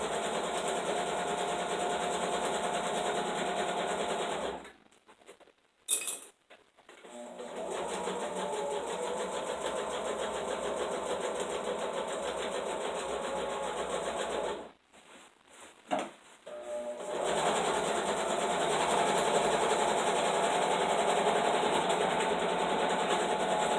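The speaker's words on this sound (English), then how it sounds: "You can be sitting here watching me sew." A sewing machine runs in long continuous stretches of steady whirring, stopping twice for brief pauses with small clicks before the stitching resumes, close and moderately loud with no talking.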